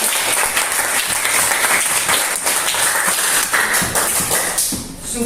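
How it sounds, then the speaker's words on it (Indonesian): A classroom of students claps together in a brisk burst of applause, many hands patting at once in a dense, lively patter that holds steady for several seconds. "tepuk tangan dulu untuk jawab"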